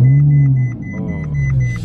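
Ferrari 458 sports car on the road, a low engine rumble with a steady whine, heard from inside the cabin and shifting slightly in pitch over a couple of seconds.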